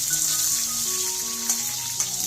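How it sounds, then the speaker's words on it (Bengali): Parboiled potatoes with cinnamon, cardamom and cloves sizzle in hot oil for a vegetarian jackfruit curry, a close, even frying hiss with a couple of soft stirring knocks and no voices. "দিয়ে একটু ভালো করে নাড়িয়ে নিচ্ছি"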